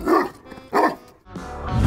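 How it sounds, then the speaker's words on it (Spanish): A giant dog breed lets out two deep, powerful barks close by, each one booming and evenly spaced, followed by a lower rumbling vocalization. "no dudará en lucir su intimidante y poderoso ladrido"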